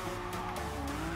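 A Honda NSX drifting in the Gran Turismo Sport video game, with a continuous high tire squeal over a steady droning engine, sustained and evenly loud throughout the brief moment.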